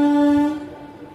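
An Aurangabad Express train on the newly commissioned Giddaluru–Diguvametta double line sounds a loud, sustained horn blast that cuts off after about half a second, leaving a fading rumble.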